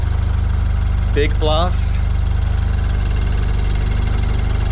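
A BMW Z4 E89 engine idles with its exhaust disconnected after a new timing chain, giving a loud, steady low rumble throughout, while a person speaks briefly over it.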